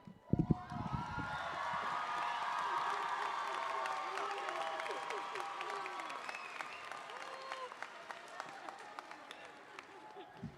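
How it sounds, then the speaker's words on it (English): Broad applause from the audience at a continuation high school and workforce academy commencement ceremony, steady and sustained with cheers and voices mixed in, gradually thinning toward the end. "Can we give Trustee Rodriguez another round of applause?"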